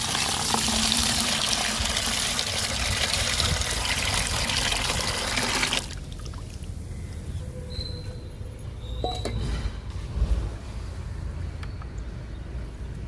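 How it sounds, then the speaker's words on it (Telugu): Diluted liquid fertilizer pours into a bucket in a steady, loud gushing stream for about six seconds, then stops, leaving faint dribbles and small knocks. "ఈ లిక్విడ్ని బకెట్లో పోస్తున్నాను"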